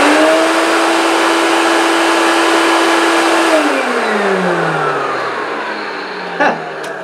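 A vintage 1970s Hoover S3001 Celebrity Custom vacuum cleaner, running with its lid open and no suction, gives a loud, steady whine and roar. Its pitch drops partway through as the motor slows, and a brief knock comes near the end.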